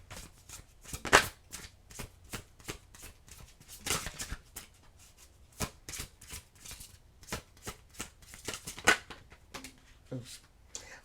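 Oracle cards being shuffled and drawn during a reading, with a string of crisp, close card flicks and slaps coming in uneven bursts, some sharper snaps standing out, and no speech over them.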